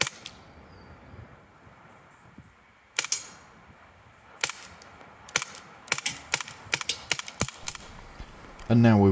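A Sig P25 CO2 air pistol fires pellets outdoors in a string of sharp, close, muted cracks, first spaced out and then coming quickly one after another, over faint background noise.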